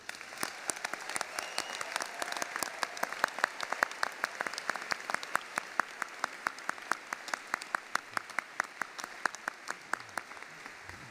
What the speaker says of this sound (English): Let us give one more round of applause to the class of 2023